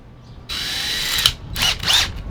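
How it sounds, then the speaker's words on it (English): Power drill boring a pilot hole into a wooden headboard board for screws: a sustained whirring run of about a second, then two shorter bursts as the bit bites through the wood, close and fairly loud. "Pre-drilling, you just use a smaller drill bit than the screw"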